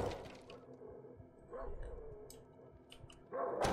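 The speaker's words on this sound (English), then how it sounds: "It's just a dog" A dog in the video game Darkwood barks and yips in a few short bursts, somewhat distant and faint against low ambient noise, with no talk.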